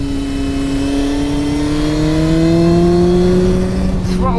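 A 2020 Honda CBR900RR Fireblade motorcycle, about 205 kilos, revving up close; the loud engine note climbs steadily in pitch and ends with a brief rush of wind.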